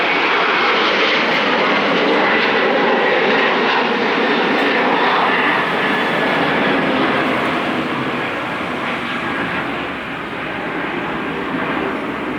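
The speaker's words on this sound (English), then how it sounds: "let me give you 1 sec for the airplane" An airplane passing overhead makes a loud, steady, broadband engine roar that holds for the whole stretch, easing slightly and then swelling again, with no voices over it.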